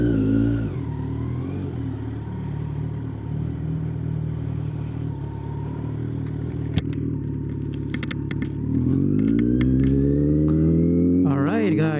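A Kawasaki Z900 motorcycle engine drones steadily at close range and then climbs in pitch as the rider revs and accelerates, with a voice speaking faintly over the bike.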